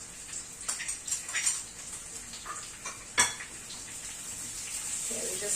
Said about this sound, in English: Okay, we just keep sauteing a bit.